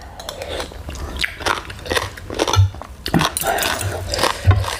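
Close, loud crunching and chewing of crisp green papaya salad mixed with squid, shrimp, salmon and Vietnamese pork sausage, with bites coming in an uneven rhythm.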